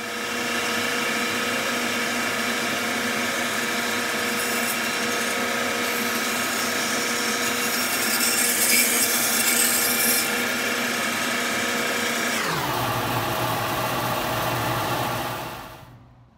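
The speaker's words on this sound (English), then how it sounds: "I started with a log and put it on a circle cutting jig on the bandsaw." A bandsaw cutting a firewood log as it turns around the pivot screw of a circle cutting jig, a loud sustained motor hum and blade whir that drops in pitch near the end and winds down to silence.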